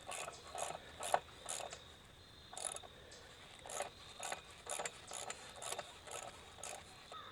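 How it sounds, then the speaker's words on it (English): Quiet, intermittent ratcheting and metallic clicks come from bolting wooden perimeter toe boards to anchor posts on a hoop house, in short irregular bursts with pauses between. "We're bolting the perimeter boards to the anchor posts."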